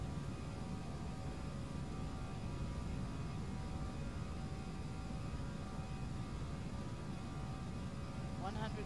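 Airbus A319 takeoff roll in Flight Simulator X, a steady, moderate jet engine rumble and hum with no clear change across the clip.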